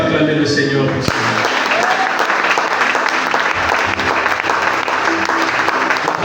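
A church congregation breaks into loud, sustained applause that fills the room steadily after a brief spoken line, clapping dense and even throughout.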